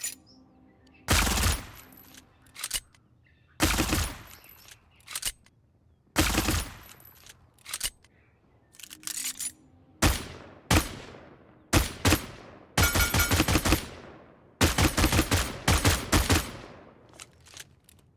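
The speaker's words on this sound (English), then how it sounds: "Seven's alt fire is called Trigger Discipline." VII's guns fire in the Paladins video game, loud close bursts and rapid volleys separated by short silences, the fire patterns shifting between single shots and longer automatic strings.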